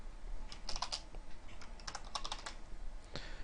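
Short clusters of crisp computer keyboard keystrokes as C++ Qt socket code is typed, a few quick taps then a pause, close and fairly quiet.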